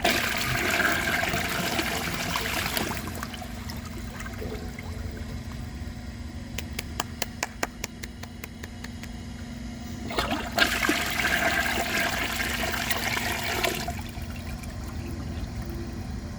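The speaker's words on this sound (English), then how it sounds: "let's put a washcloth and a grocery bag in the toilet and flush it." A 1992 Peerless Hancock toilet flushes with a loud rushing swirl of water, then a steady trickle as the tank refills, with a second surge of water near the end.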